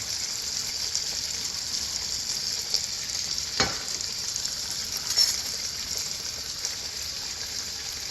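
Garlic and sweet bamboo shoots stir-fry in olive oil in a pan for a Thai fermented-fish dish, giving a steady close hiss with one sharp scrape of the spatula partway through.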